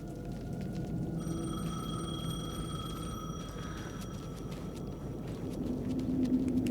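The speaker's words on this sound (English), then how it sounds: "The payphone was ringing." A payphone rings in the video game Alan Wake 2, a steady electronic trill that starts after a moment and holds over a low, murky ambient backdrop, fairly quiet and alone.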